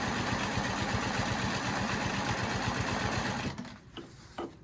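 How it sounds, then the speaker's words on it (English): A sewing machine stitches a dot-to-dot quilting design in a fast steady mechanical chatter that runs loud and even for several seconds, then stops abruptly, leaving a few faint handling clicks. "I'm heading back to join in with this line that I've just quilted"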